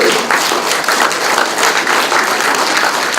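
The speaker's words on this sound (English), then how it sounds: "a round of applause for all of you" A room of program participants bursts into loud, dense applause at a closing speech, continuous close clapping that fills the whole moment.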